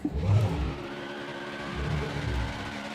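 Truck engine in NASCAR Heat 5 revving hard on a victory lap, a rumbling low roar that surges near the start, settles into a steady drone, then swells again with faint tire squeal.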